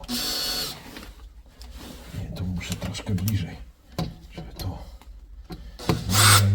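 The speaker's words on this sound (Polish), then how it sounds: "Patrzcie, wkręcę tutaj śrubę." A screw is driven into wood in a low-budget garage build, giving a grinding, rubbing drive sound in uneven bursts close by, with a louder burst at the end and a voice speaking in between.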